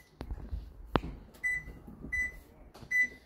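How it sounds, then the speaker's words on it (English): A microwave convection oven in a 2022 Forest River Sierra 391FLRB fifth wheel gives three short electronic beeps as its clock button is pressed, with faint button clicks and handling knocks in a quiet room. "Hit the clock button again"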